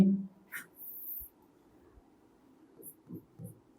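Marker or chalk scratching across a board during a maths lecture on similar triangles, faint short strokes close by over a low room hum.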